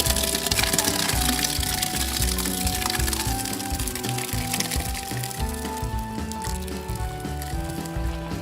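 Hot brewing mash liquid splashes and pours steadily into a picnic cooler, a continuous wet, sloshing rush close to the microphone with a mechanical thumping pattern underneath.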